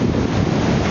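Stormy seaside in Sochi: roaring wind buffets the mic while heavy surf surges beneath, a short, loud, continuous burst of rushing noise with no one speaking.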